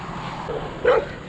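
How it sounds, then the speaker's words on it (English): A couple of dogs greeting a visitor outside near a Baptist church in eastern Alabama, one short sharp bark close by over quiet background noise. "we have a couple of dogs to greet us here"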